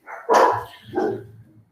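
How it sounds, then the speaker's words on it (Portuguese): A dog barks twice, close and loud: a sharp first bark and a softer second one, with no speech. "lembra do meu cachorro, de novo"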